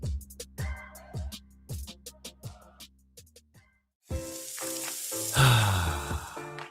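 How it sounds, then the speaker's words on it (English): Gain long-lasting scent booster beads being added to laundry for a commercial: a run of separate rattling taps, then a loud, steady rushing hiss that swells near the end. "That's the sound of James adding long-lasting Gain scent boosters to his laundry this morning."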